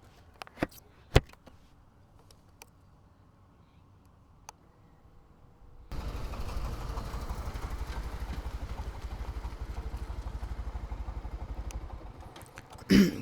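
A Bajaj Pulsar 150 motorcycle starts up partway through after a quiet stretch with a few clicks, then its engine runs in a steady, close, rhythmic thrum at moderate loudness.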